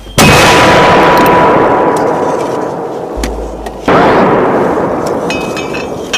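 Two huge artillery blasts in a military battle game, the first at the start and the second near four seconds, each with a long rolling decay and faint crackling between them.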